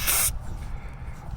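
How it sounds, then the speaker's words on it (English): A WD-40 spray can fires a short, sharp hiss through its thin red straw onto the washer of a pressure washer, a single brief burst up close that stops abruptly, leaving quiet handling noise. "Take your can of WD-40 with your little red hole straw thing,"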